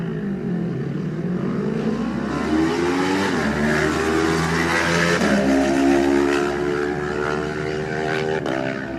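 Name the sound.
race motorcycle departing from the start line, Kawasaki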